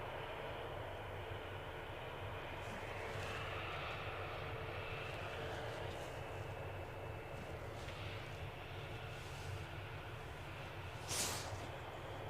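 An EasyJet airliner arriving at Edinburgh airport, its engines a broad steady roar that holds for several seconds at moderate distance, with faint outdoor background around it.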